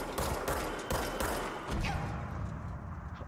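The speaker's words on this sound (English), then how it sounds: "I'm really getting sniped out here." Sniper gunfire in the video game Control: a rapid flurry of sharp shots and thuds during the first couple of seconds, fairly faint, fading into a softer rumbling tail.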